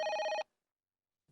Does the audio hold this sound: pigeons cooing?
no